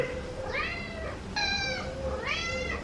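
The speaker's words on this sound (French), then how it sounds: "il y a des chats. Ils nous aiment trop." Several hungry cats meowing close by indoors, three drawn-out, loud meows in turn with short pauses between them, and no talking over them.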